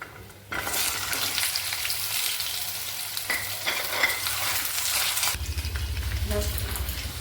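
Taro pieces drop into hot oil with dry red chilies, bay leaf and asafoetida, bursting into a sudden loud sizzle that carries on with stirring, then shifts to a lower bubbling rumble near the end.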